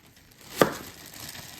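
A plastic pretzel bag's zipper seal is pressed and tested, giving one sharp crinkling snap up close followed by faint plastic rustling.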